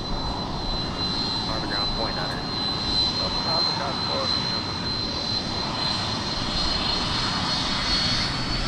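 Big jet airliner engines, including a Boeing 767, roar steadily at close range as the aircraft taxis at Minneapolis–Saint Paul airport, with a thin high whine over a broad rumble and someone talking faintly beneath it.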